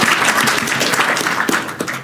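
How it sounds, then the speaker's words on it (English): A convention panel audience at Thought Bubble gives a brief, loud round of applause, a dense, even wash of clapping throughout. "Round of applause for Norm."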